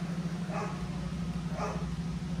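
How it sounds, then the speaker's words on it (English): A dog barks inside a parked or moving car on a residential street in Stonington, Connecticut, giving two muffled barks about a second apart over a steady engine and road hum. "Well, the dog seems happy."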